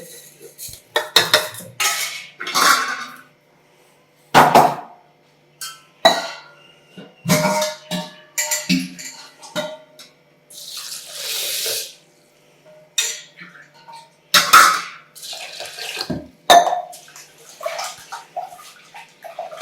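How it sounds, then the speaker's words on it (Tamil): One and a half glasses of rice are washed and rubbed by hand in water in a pot for tomato rice, bursts of swishing, splashing water and grainy scraping against the pot with short quiet gaps between them. "இப்போ தண்ணி அரிசியை நல்லா கழுவி பிணைஞ்சிக்கிடுவோம்."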